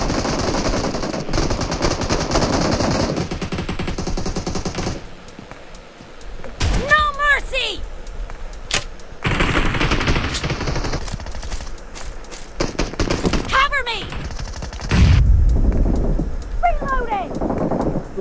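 Shotgun fire in the battle royale game PUBG comes as sharp, loud bursts in several clusters, broken by quieter gaps, with voices talking over the action.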